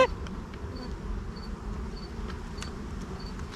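Honey bees buzz around backyard beehives in a faint, steady drone, with a few individual bees passing closer over a soft outdoor background.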